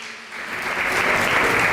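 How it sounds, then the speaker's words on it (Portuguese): An audience at a women's church congress breaks into applause that swells quickly from scattered claps into a dense, sustained wash of many hands. "Pode aplaudir ao Senhor."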